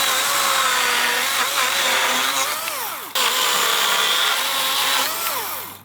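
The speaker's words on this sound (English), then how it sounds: "So I'm just gonna take this chainsaw and start cutting things apart." A chainsaw cuts apart a wooden deck rail section, its engine whining loud and close in two sustained passes, the pitch dipping as the chain bites into the wood, separated by a brief break.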